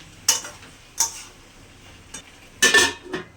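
A spoon clatters and scrapes against a pan while a curry is stirred and sautéed, four separate metallic knocks and scrapes spread over a few seconds, with a faint sizzle in between.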